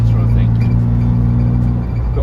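Close, steady low engine rumble from a Morris Minor running slightly rough at very light throttle, a continuous uneven idle-like drone with no clear revving.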